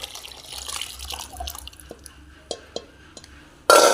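Tender coconut water with soaked sabja seeds is poured out in soft trickles and scattered drips, with a few clear splashy plops, ending in a sudden louder gush of liquid.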